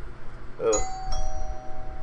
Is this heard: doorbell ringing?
yes